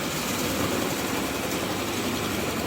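A Javelin 16-4 portable 4-inch auger motor runs with a dense, steady broadband roar, loud and constant with no breaks and no voices.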